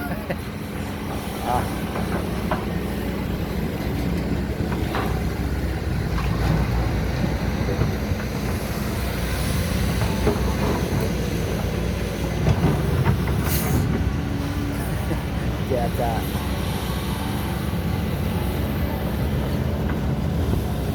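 A SANY SY215C Super Ace excavator's engine drones steadily and continuously near a reservoir where purple soil is being dug, with people talking over the constant mechanical rumble.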